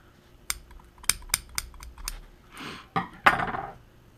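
Several sharp little snips and clicks of cutting braided fishing line tag ends close to a reel spool, spaced irregularly with faint handling rustle between, quiet and close.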